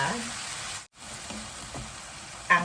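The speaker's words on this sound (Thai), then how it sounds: "เราก็โรยน้ำผัดไทยเลยนะคะ" Pad thai sauce sizzles and fries in a hot pan for shrimp pad thai with instant noodles, a steady close hiss with a brief dropout and a sharper spatter near the end.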